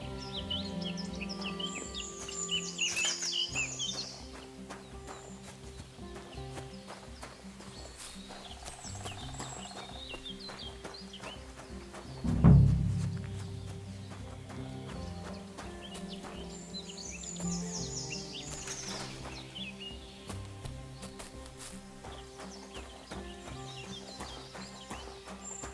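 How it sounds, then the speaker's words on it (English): In the Kingdom Come Deliverance II video game, a horse's hooves clop steadily along a path at a walk, moderately near, over soft ambient birdsong, with one louder thud midway. "Somebody untied the horse and led him along the path."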